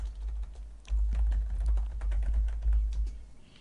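Keys tapped on a computer keyboard while a query name is entered, a quick run of soft, uneven clicks over a steady low hum, close and fairly quiet, with no talking.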